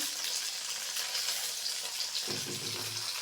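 Rice-flour puli pitha fritters frying in mustard oil give a steady, soft, broad sizzle that continues evenly throughout, with a faint low clatter near the end.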